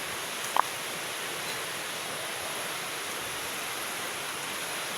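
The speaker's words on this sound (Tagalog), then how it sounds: "Malakas yung agos ng tubig." Strong river current rushing through a mountain valley, heard from some distance as a steady, even roar of flowing water that holds constant throughout, with one brief faint click near the start.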